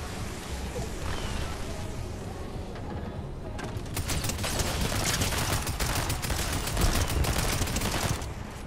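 SMG gunfire in Fortnite, rapid rattling bursts that grow denser and louder partway through, continuous with no talking.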